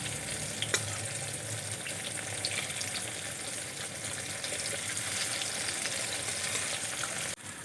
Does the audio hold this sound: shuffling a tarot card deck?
no